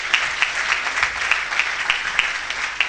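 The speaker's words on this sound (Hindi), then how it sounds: "उनकी आपकी भरपूर तालियां" Audience in a theatre ceremony applauding, a dense, steady wash of many hands clapping at moderate distance for a few seconds with no voices.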